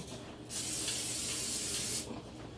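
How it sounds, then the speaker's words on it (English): A steady spray of cooking spray hisses for about a second and a half against a quiet background, then stops abruptly. "I gave that a light spray."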